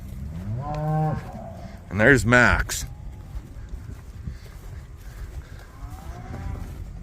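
Cattle low and moo on arrival at the home place as cows and calves come back after being hauled home from rented land, with one loud bellowing call near the middle and softer moos around it, under a voice.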